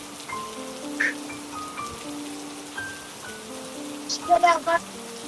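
Rain falls steadily outside a house at night as water leaks inside, a soft continuous patter under a voice and a few brief clatters near the end.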